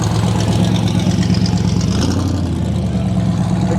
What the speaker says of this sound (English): Take a look at that Maverick going out of there.